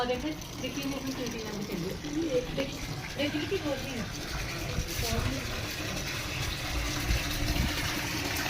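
Tap water runs steadily into a container, a continuous splashing flow beneath people talking nearby.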